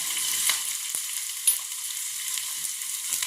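Steady hissing sizzle of mustard seeds frying in hot oil, with occasional pops and crackles, close up and with no talking.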